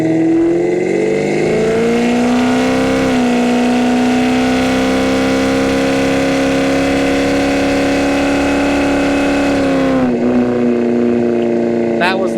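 A 1972 Chevrolet Chevelle engine pulls hard on a test drive, a loud, steady engine note rising in pitch through a long pull, then a brief dip near the end as it lets off.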